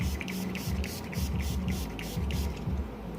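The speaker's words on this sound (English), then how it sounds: "you can spray some more." Several short bursts of spray from a pump bottle spraying alcohol onto glued ballast stones at a model railway turnout, repeated in quick succession over a steady low hum.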